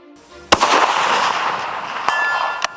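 A 300 Win Mag Magnum long-action rifle fires one sharp, loud, close shot that rolls away into a long echoing tail outdoors, followed by two fainter distant cracks or impacts.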